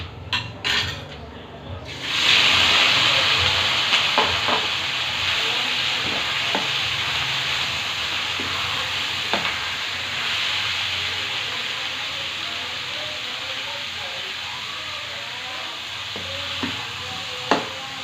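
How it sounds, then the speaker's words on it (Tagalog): Meat for menudo dropped into a hot pan, a sudden close sizzle that settles into a steady frying hiss with occasional stirring scrapes and taps, no voice over it. "Lagay na natin yung karne sa kabilang kawali"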